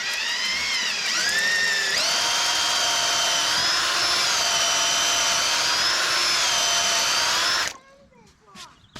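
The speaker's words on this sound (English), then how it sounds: "we're going to auger this hole in, and this is going to be the matching hole to our corner post" Power drill turning an auger bit into a fence post hole on a farm, a loud steady whine that ramps up after a short start, holds for several seconds, then stops abruptly.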